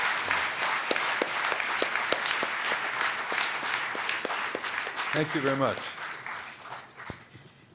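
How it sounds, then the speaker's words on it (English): Lecture-hall audience applauds a professor after a question session, a dense, steady clatter of many hands that fades near the end while someone speaks briefly over it. "May I invite you to give a round of applause."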